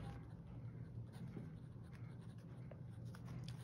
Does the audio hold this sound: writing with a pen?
yes